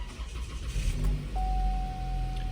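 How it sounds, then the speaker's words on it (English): A Chevrolet Malibu engine cranks and catches, rising from a low rumble to a steady idle nearby, with a thin electronic whine holding underneath once it runs. "So here, if I start the car,"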